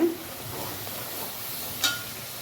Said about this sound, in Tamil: அருமையாக நல்லா வதங்கி வரட்டுங்க